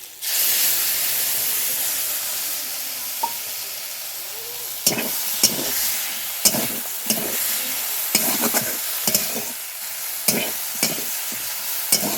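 Vegetables frying with green chili and mustard-fenugreek seeds in a pan, a steady loud sizzle broken by repeated scrapes and clatters of stirring, close up with no talking.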